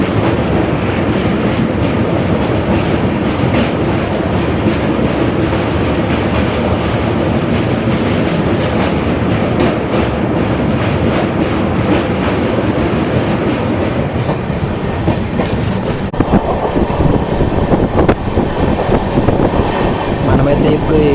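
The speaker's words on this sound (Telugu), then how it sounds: "ఇప్పుడు మనం ఈ రూట్లో ఉన్న అతిపెద్ద బ్రిడ్జ్ మీద నుండి అయితే మనం వెళ్తున్నాం" Train on the Asarva to Udaipur route crossing a large bridge, a loud steady rumble with clattering wheels, the tone shifting near the end, with talking in the carriage.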